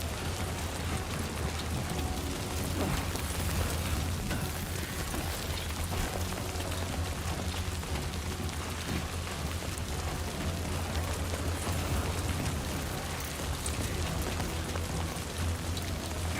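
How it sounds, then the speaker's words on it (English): Deadly in-game timefall rain pours in a video game as a dense, unbroken hiss of rainfall that stays loud and steady throughout with no voices over it. "The rain is deadly in this game."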